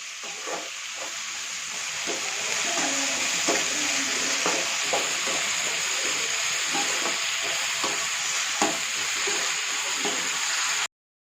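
Onions sizzle and fry in a pan for onion-tomato chutney, with occasional stirring scrapes, continuous and close with no voices.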